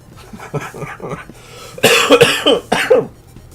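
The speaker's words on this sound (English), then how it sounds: "I say as I have a little nice coughing fit." A burst of harsh, rasping coughs, several in quick succession, loud and close, with a few softer throaty sounds leading up to it.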